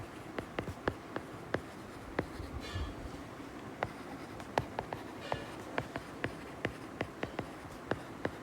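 A heading being written with a marker or chalk during a chemistry lesson: light, scattered taps and strokes at an uneven pace, faint and close against a steady room hiss.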